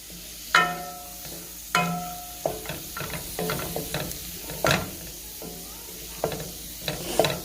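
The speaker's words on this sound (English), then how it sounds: "stir fry this garlic for a moment until it's nice and fragrant" Garlic stir-frying in a pan, a soft steady sizzle beneath repeated sharp clinks and scrapes of a utensil against the pan, with no voices.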